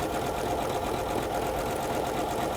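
A Janome 9850 sewing machine stitches an embroidery design in blue thread, giving a steady, fast mechanical whir and rattle that runs unbroken and close throughout.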